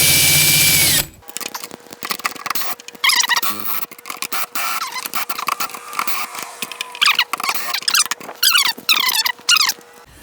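A power drill with a socket undoes the wheel bolts on an Atari Quantum arcade cabinet, giving loud bursts of whirring and squealing with brief pauses between them, and no talking.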